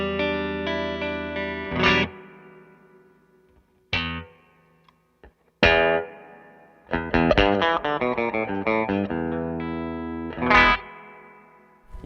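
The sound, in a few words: guitar through Anasounds Elements spring reverb pedal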